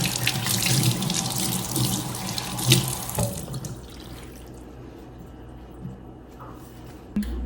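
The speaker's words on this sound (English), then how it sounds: "And wash my hands because I need to start handling everything else." Hands are washed under a running kitchen tap: a steady, close rush of water splashing into the sink, loud at first and then softer and thinner as the flow changes, with no voices.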